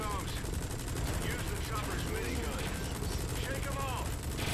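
Rapid automatic gunfire in Metal Gear Solid V: The Phantom Pain, a continuous rattling burst under a loud, busy game soundscape, with a voice talking over it.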